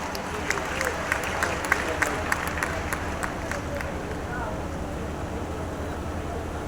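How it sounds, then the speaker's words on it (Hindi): A large crowd of women claps loudly at a public gathering, a broad continuous wash of applause with a few sharp individual claps standing out early, with faint crowd murmur underneath. "एक बार जोरदार तालियां होनी चाहिए।"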